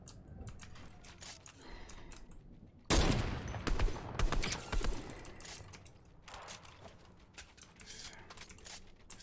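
Rapid Fortnite gunshots, including a heavy sniper, erupt in a loud burst midway, surrounded by quieter clicking and scattered shots.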